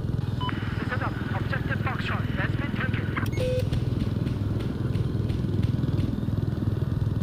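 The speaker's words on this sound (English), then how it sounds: "let's take this transport chopper, see if we can get some people spawned in and do some good" A transport helicopter in the Battlefield 4 video game thrums with a steady rotor and engine drone throughout. Game clicks and beeps sit on top, and a player talks over it.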